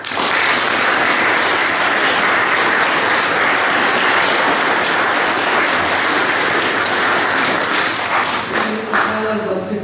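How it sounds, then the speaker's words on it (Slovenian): Sustained loud applause from a church concert audience honoring the organists, dense steady clapping filling the whole stretch and thinning slightly near the end. "Zdaj pa namenimo še en aplavz organistkam Ani Pokutnik in Tini Nevedec ter Katarini To"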